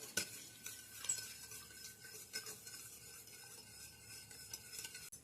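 Sugar and agar powder are stirred into a watermelon jelly mixture until they dissolve, producing very faint, steady scraping and light clinks of a spoon against the pot, with no voices.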